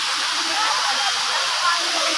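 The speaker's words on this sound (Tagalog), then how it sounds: "Sarap pakinggan ng tubig eh." Water rushes continuously along a forest stream, a loud, even roaring hiss with no pauses, heard up close.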